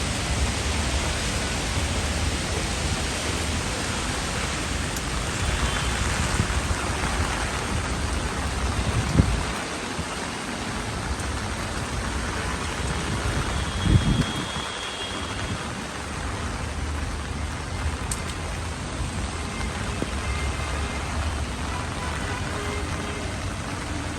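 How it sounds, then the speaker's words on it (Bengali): Steady rain falls on a rooftop garden during a storm, a dense, even hiss throughout, with low thunder rumbling faintly a couple of times. "বৃষ্টি পেয়ে গাছগুলো সব সতেজ হয়ে গেছে"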